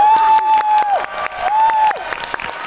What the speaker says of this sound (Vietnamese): lần này sẽ là cả 4 người vỗ tay cho phần trình diễn vừa rồi